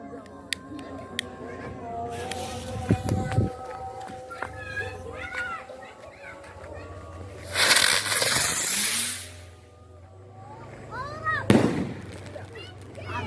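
A 300-shot roman candle fireworks cake fires repeatedly, with sharp cracks and whooshing launches over a crowd, rising whistles and loud crackling bursts scattered through voices talking nearby.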